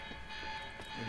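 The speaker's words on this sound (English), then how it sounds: "The alarm must have locked everything down." Alarm in the video game Quantum Break, a steady tonal electronic drone running through the whole moment with faint mechanical rumble beneath, fairly quiet and without talking.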